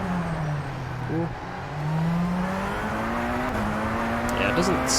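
Tatuus open-wheel race car engine in the rFactor 2 sim racing game: a buzzing, whiny engine note that rises through the revs, dips briefly at a gear change, then climbs again, with someone talking over it.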